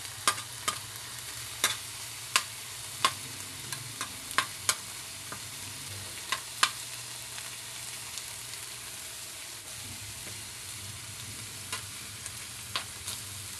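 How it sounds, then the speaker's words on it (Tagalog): Onions sautéing in a pan, a gentle continuous sizzle with sharp scattered clicks and scrapes from stirring, close up and without talk. "Gisa-gisa tang dikit."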